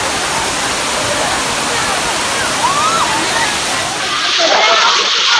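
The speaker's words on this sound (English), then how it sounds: "So we are currently at the waterfall base" Waterfall at Khopoli, Maharashtra, heard from its crowded base: a loud, steady roar of falling water that fills the clip, with faint tourist voices mixed into the rush.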